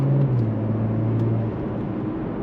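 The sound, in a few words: Porsche Macan GTS engine running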